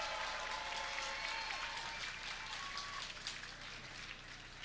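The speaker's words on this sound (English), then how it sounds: "How about a nice round of applause for these 2 amazing fighters" Crowd applause fills the whole stretch for two kickboxers after three rounds, a dense, steady clapping wash at a live fight event, with faint tonal sounds over it and no voice.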